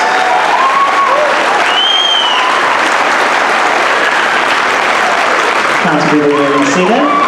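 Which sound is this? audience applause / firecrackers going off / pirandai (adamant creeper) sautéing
audience applause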